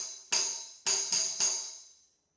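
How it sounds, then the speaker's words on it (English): Four crisp tambourine hits struck with the fingers, jingles ringing bright and decaying after each, the last three coming in quick succession; close and clear. "You can strike the tambourine with your fingers."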